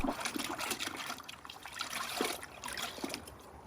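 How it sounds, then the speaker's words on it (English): Water sloshes and trickles continuously in a bucket as microfiber towels are agitated in it, a steady wet churning with no voices. "we'll add our microfiber towels and agitate the water"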